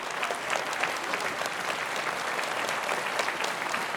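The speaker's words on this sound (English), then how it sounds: "Why don't we give them a round of applause for supporting the program?" An audience at a talk on FDA biosimilars claps in sustained, dense applause that holds at an even level throughout, a crowd of many hands with no voices standing out.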